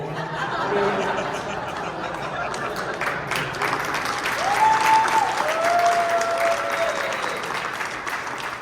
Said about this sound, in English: First applause break of the panel.